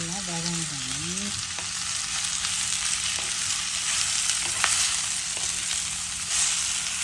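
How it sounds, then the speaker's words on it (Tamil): Chopped onions sizzle steadily in a hot, oily pan for a Tamil fenugreek seed curry, a constant bright hiss broken by a few soft clicks of a spoon stirring, with a brief tonal sound at the very start and no talk. "வதக்கணும். வெங்காயம் நல்லா வதங்கணும்."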